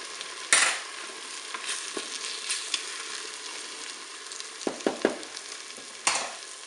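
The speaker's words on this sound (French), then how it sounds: "mon omelette cuit tranquillement en mode doré" Beaten eggs with grated gruyère and courgettes fry gently in a Cookeo multicooker, a steady soft sizzle broken by a few sharp clinks and scrapes of a utensil against the pot.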